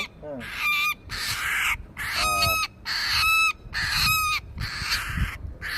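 A rescued male bird found at an airport gives repeated loud, harsh calls, several bursts of harmonic cries separated by short gaps, close to the listener.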